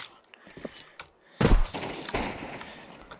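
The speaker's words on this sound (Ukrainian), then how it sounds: "Ось там щось стріляються." Bursts of gunfire crackle in Counter-Strike 2 on the Dust2 map, a few sharp shots then a louder volley with echoing thuds trailing off.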